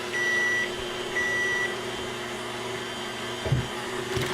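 Electric mixer running steadily on low speed, beating egg whites and sugar for a stovetop chocolate cream pie, a constant motor hum with a couple of faint beeps near the start.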